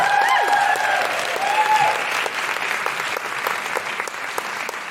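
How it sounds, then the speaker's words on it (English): Live comedy podcast audience applauding Lauren, a dense, steady wash of clapping across the whole stretch with a few whoops rising early on, loud and sustained without speech. "A big round of applause for Lauren, everybody!"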